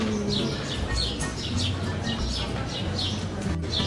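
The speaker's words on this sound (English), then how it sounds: "We got some St-Malo birds." Birds chirping outdoors in St-Malo, France: repeated bright tweets and short calls over a dense hiss of ambient noise and low rumble, with a few faint murmurs of voices.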